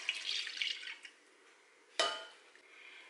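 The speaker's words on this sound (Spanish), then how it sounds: "Vamos a poner la leche en una cacerola." Milk poured into a saucepan while making Holy Week torrijas gives a quiet, brief liquid splash, followed by a sharp clink and a short trickle a moment later.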